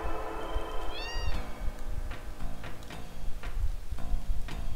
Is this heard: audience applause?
no